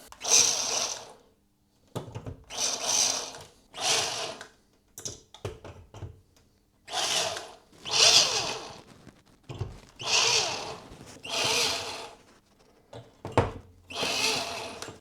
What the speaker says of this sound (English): I'm just going to resort to just drilling holes